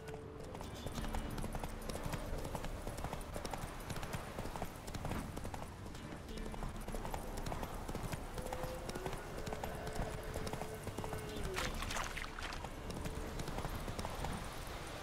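Hoofbeats of the horse Roach galloping in The Witcher 3 video game, a steady, continuous clip-clop running throughout at close range, with a brief whinny-like sound and faint game ambience underneath.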